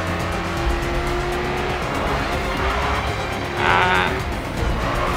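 A Ford Mustang races in the video game Grid 2, its engine droning steadily while the tyres squeal and skid through corners, with a sharper screech swelling briefly near the end.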